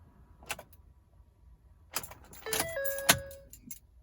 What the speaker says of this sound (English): As I turn the key, absolutely nothing.